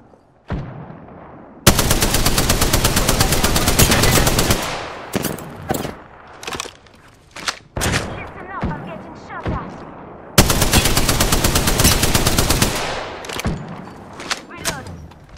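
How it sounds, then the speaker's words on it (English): Sustained automatic weapon fire from the video game Apex Legends roars in two long loud bursts, separated by a stretch of scattered single shots and sharp impacts, with a voice speaking over the action. "Getting shot at!"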